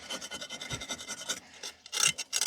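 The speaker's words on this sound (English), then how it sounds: "scrape off all these powder from the sides of the pot" Dry weed fertilizer powder is scraped off the sides of a cooking pot in quick, close, raspy strokes, a steady run of scratches followed by a few louder, harsher scrapes near the end.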